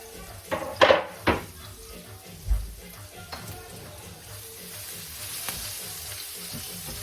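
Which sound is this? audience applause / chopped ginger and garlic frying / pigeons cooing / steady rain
chopped ginger and garlic frying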